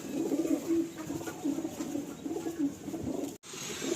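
Kalanka high flying pigeons coo in a steady, low, repeated rhythm, several soft burbling calls overlapping nearby, with a brief pause near the end.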